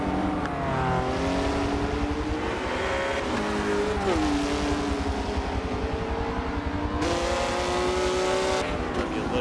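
Race cars at a Daytona Michelin Pilot Challenge race, a McLaren among them, drone steadily with engine notes that dip under braking and climb again on acceleration, loud and continuous, with commentary running over them.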